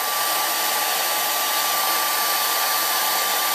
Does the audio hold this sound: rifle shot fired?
no